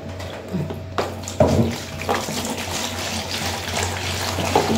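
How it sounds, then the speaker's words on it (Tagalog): Tap water pours steadily into a bucket for a homemade dishwashing liquid, a continuous close splashing and gurgling with a few louder sloshes partway through. "Maglagay tayo 15 liters na tubig."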